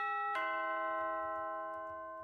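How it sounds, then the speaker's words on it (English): A front doorbell strikes one sustained chime with a sharp attack and rings out, slowly fading over a couple of seconds with faint low rumbling beneath. "Oh, that's the front doorbell."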